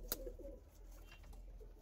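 Andhra breed pigeons in a loft, chicks among them, give soft repeated coos over a faint background hum, with one sharp click near the start and no talking.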